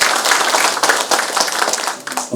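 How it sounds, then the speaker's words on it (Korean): An audience at a South Korean peaceful-unification citizens' class event applauds loudly, with dense, sustained clapping throughout. "큰 박수로 부탁드리겠습니다."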